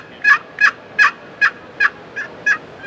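A wooden turkey box call is stroked to imitate a hen's yelps: eight evenly spaced, raspy two-tone notes about a third of a second apart, loud and close with nothing else heard.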